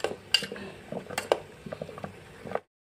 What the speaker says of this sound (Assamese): এতিয়া দেখা পাইছে চাবোনখিনি গলিব ধৰিছে আৰু অলপ লৰাই দিলোঁ